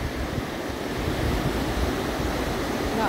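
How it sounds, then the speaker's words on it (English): Creek water flowing steadily over rocks and sand in spring, a continuous broadband rush close to the microphone with no one speaking. "Water's flowing pretty good still."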